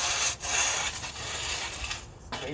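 Rough scraping and scrubbing of soil across the ground with a hand tool while levelling earth for outdoor flooring, a steady close gritty rasp with a few brief pauses and no talk.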